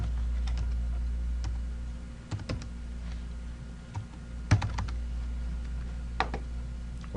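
Typing on a computer keyboard at an office desk gives scattered bursts of key clicks over a steady low hum, close and moderately quiet.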